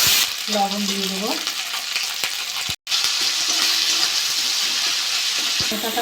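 Tomato with ginger paste, turmeric, chili, cumin and coriander powders frying loudly in oil in a pan for cabbage curry, a strong close sizzle broken by a brief dropout, with scraping stirs and a short tonal whine early on.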